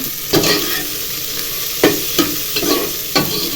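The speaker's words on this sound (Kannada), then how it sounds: "ನೆಕ್ಸ್ಟ್ ಈರುಳ್ಳಿ ಹಾಕೋತಾ ಇದ್ದೀನಿ" Onions and cashews fry in a pan under a steady, close sizzle, broken by about five sharp scraping stirs of a spatula at irregular intervals.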